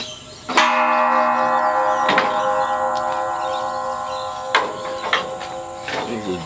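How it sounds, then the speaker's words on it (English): A metal gas cylinder struck as a dinner gong rings out with loud, bell-like clangs, about four strikes with long sustained ringing tones decaying between hits, close by. "Banging on the gas cylinder."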